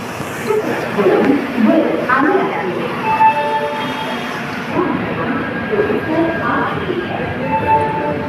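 A train hums and rumbles at a railway station with a steady drone, while people talk and chatter nearby throughout.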